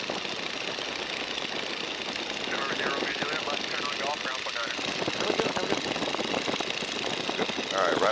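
A 1942 Boeing Stearman biplane engine running in flight, a loud continuous drone with wind rush and a pulsing beat, steady throughout, with voices speaking faintly over it.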